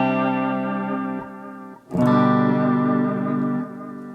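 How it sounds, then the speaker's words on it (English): A sustained guitar chord through a Donner Versa Yellow Fall 2 pedal on its digital delay setting rings out, briefly drops, then swells again with a smooth echoing tail that fades at the end. "I really like the sound of a digital delay"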